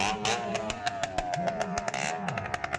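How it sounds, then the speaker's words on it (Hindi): Motorcycle engines rev and roar inside a wooden well of death stunt show at a fair, rising and falling pitch with sharp clattering bursts and rattles, loud and close. "इनके बाइक की जो रोरिंग साउंड है, ये दर्शकों को एक एक्साइटमेंट का अनुभव कराती है।"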